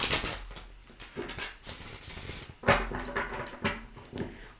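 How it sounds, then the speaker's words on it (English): Tarot cards being shuffled by hand during a reading, a busy run of soft riffling, patting and clacking bursts with a few louder thumps, close up and without speech. "That was a little bit better, that shuffle."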